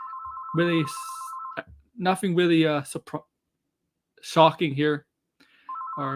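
A telephone rings with a steady electronic trill at the start, cutting off as a voice begins talking, then starts ringing again near the end.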